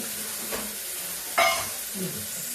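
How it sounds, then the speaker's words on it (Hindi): Chana dal and bottle gourd simmer in a pot, giving a soft, steady hiss of steam and gentle bubbling, with one brief scraping stir partway through. "चने की दाल को पका लेते हैं"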